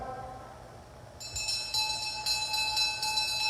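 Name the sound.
last-lap bell at a cycling track race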